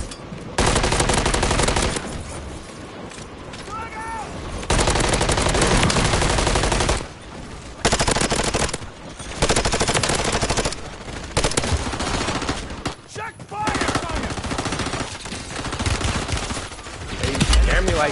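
Sustained automatic gunfire rattles through a video game shootout, loud, dense bursts broken by short pauses, with players talking over the shooting.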